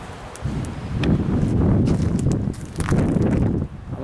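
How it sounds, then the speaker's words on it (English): Strong storm wind with gusts of 40 to 50 mph roars and buffets the microphone continuously, loud and close, with rustling and faint knocking mixed in. "just want to show the wind and the storm"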